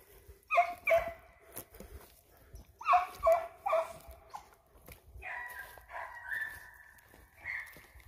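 Hound puppies bay and yelp at a fair distance while they work a deer track behind their mother. Short barks come in clusters, then longer drawn-out howls follow, and the sound carries over a quiet outdoor background.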